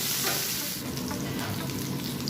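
Onion sautéing with garlic in a pan for a beef with young corn dish, a loud, continuous close sizzle with stirring scrapes and no talking.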